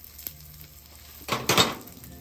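A knob of butter dropped onto a hibachi griddle cooled after cleaning gives a gentle, brief sizzle that swells for under a second, preceded by faint metallic clinks of a utensil.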